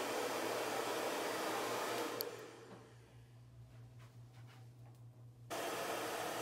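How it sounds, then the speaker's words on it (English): Hair dryer fitted with a diffuser drying curly hair, a steady close whooshing blow that drops to a quieter low hum for a few seconds, then returns to full airflow. "I am really focusing on diffusing the shorter layers in my hair"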